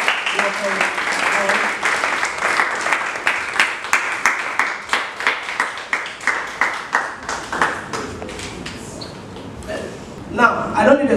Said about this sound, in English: So please read us with a round of applause.